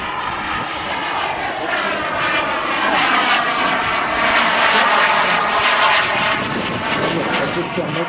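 Turbine-powered RC model jet with flaps retracted flying past at an outdoor meeting, a steady loud whine and roar that swells slightly and holds throughout, with a faint commentator's voice under it.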